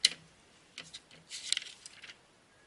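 A few light plastic clicks and a brief latch snap, quiet and close, with a short scraping slide as a printer's paper drawer opens.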